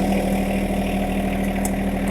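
A John Deere 260B backhoe engine idles with a steady low throbbing rumble, close and continuous for a short moment.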